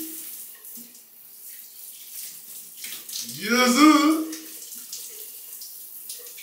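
Cold shower water running, a steady hiss that swells into a louder gushing splash midway before settling back to a quieter flow.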